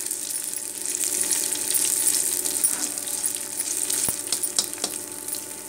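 Green chilies sauté in hot oil in a pan for Kerala-style lemon pickle, giving a steady, close, continuous sizzle with scattered crackles and pops and the occasional clink of a utensil, no voices.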